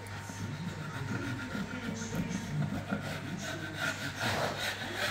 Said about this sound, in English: Use the chisel.